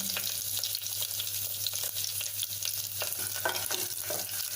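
Coriander, turmeric and asafoetida sauté in hot oil for field bean curry, a soft steady sizzle broken by scattered scraping taps of a spoon stirring the pan.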